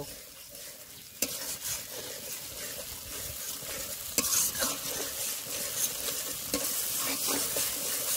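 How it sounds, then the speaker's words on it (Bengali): Spice paste with ground cashew, chironji and raisin fries and is stirred in a pan, a continuous close sizzle broken by repeated scraping strokes of a spatula. "এইবার দিয়ে দেবো কাজু বাদাম, চালমগজ আর কিশমিশ বাটা। আবার একটু কষে নেব।"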